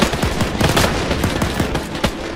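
British machine gun fire in Arma 3 during a Gold Beach, Operation Overlord battle: rapid, continuous rattling bursts with overlapping distant shots, dense and loud throughout.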